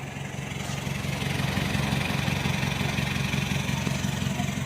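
A 2022 Toyota Revo pickup fitted with an aftermarket performance exhaust idles close by, a steady low, throaty burble that swells a little after the first second and then holds even and continuous with no talking.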